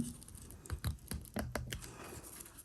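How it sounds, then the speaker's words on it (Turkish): Metal snap fastener prongs bent inward with scissors, giving a string of small, close clicks and scrapes, irregular and quiet, with no speech. "Şimdi şöyle bir makas yardımıyla bu ayakları bakın şuradaki ayakları içeri doğru kıvırıyorum."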